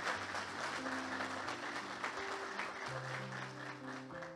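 A church congregation claps steadily and fairly quietly through a worship service, a soft continuous patter with faint voices and sustained musical tones underneath.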